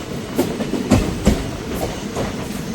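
Aboard the Kalka–Ambala Cantt passenger train 54532 as it runs through Laili village: a loud, steady rumble broken by rhythmic wheel clacks over the rails.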